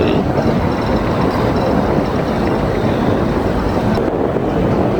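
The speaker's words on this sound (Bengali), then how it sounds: "ছোট ছোট লাইটার জাহাজগুলো ট্রলার লাইটার তেলের লরি ট্যাঙ্কগুলো পুরো নদীতে" A loud, steady engine rumble with rushing wind and water noise from small lighter ships, trawlers and oil tankers moving on a river, continuous without pause.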